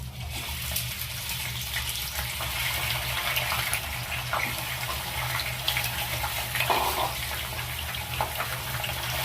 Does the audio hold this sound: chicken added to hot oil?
yes